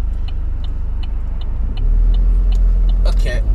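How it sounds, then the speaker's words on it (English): A car passes on the road close by, its low rumble swelling loudly partway through and holding steady, with a few faint ticking clicks scattered over it. "there's a car coming"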